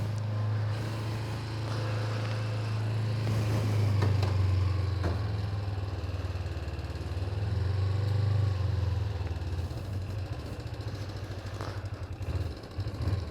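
Kawasaki Ninja 250 motorcycle idling on half choke in cold air, a steady low rumbling engine note that wavers slightly throughout, close by and fairly loud.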